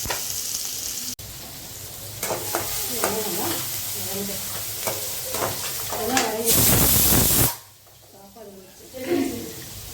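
Sliced big onions frying in a pan, crackling and sizzling up close with stirring clatter and a brief loud hiss burst partway, a voice speaking intermittently over it.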